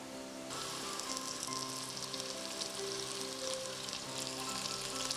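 Mint leaves are sautéed in a pan, and a bright, steady sizzle starts suddenly and crackles evenly and fairly loud throughout, with no voices over it.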